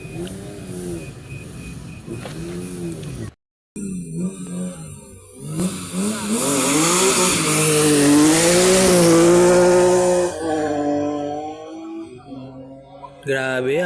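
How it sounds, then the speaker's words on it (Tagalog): Fast race cars speed past at a motorsport event in Hungary, their engines swelling into a loud roaring pass with rising and falling pitch, then fading, under some nearby talking. "Grabe, ang bibilis talaga ng mga sakyan dito."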